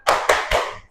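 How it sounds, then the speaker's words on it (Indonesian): A group of people clap together in a spirited chant, three loud, sharp, evenly spaced claps ringing close by. "Tepuk semangat."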